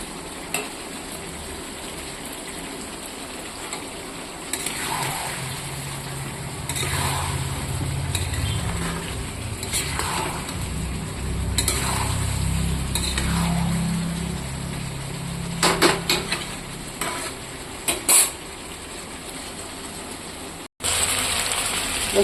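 Chicken pieces with a little raw onion fry in a pan for a chicken curry, a steady low crackling sizzle with occasional stirring scrapes, close and continuous, with no talking.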